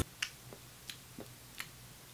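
Dry, dehydrated mouth makes a few faint, sticky clicks, spaced irregularly and heard close up against quiet background noise.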